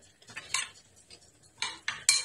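A metal spoon stirs oil, salt and herbs such as parsley and thyme into a mixture in a bowl, scraping and clinking in short, uneven strokes that come close and fairly loud, with no voice.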